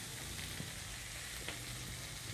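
Vegetarian fermented fish sauce stir-fries with fresh tofu in a hot pan, making a steady, dense sizzle and crackle that runs throughout without talk.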